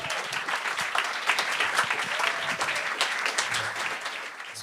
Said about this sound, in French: Je veux qu'on l'applaudisse, s'il vous plaît.